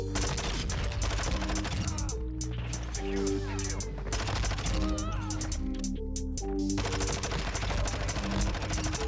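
SMG gunfire in a video game: dense, continuous rattling bursts of shots under steady game music and sound effects, loud and unbroken through the whole stretch.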